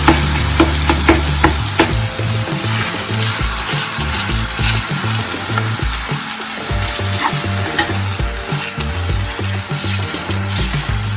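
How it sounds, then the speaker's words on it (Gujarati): Onions, garlic, turmeric and asafoetida sauteing in a pan for pav bhaji, a loud continuous close sizzle with repeated scraping and clinking stirs of a spatula, busiest at the start. "થોડાક આપણા જે કાંદા છે તે સંતળાઈ જાય પછી જ આપણે તેમાં ટામેટાની ગ્રેવી એડ કરીશું"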